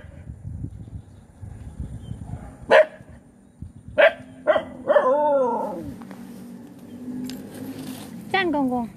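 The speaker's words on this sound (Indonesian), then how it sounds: "Jangan gonggong kak." A dog on rice paddy farmland barks and yips in several sharp bursts, close and loud, with whimpery whines between them while a person talks.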